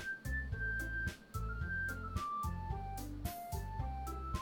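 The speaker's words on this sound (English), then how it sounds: "the whistling did something weird just now." Melodic whistling plays in a rhythmic tune over a bouncy bass accompaniment in the Doki Doki Literature Club video game, clear and steady, with no talk.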